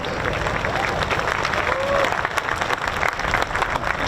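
Crowd applauding and cheering at the RAF Cosford air show after the Battle of Britain Memorial Flight, a broad wash of clapping heard from a distance, with a few voices mixed in.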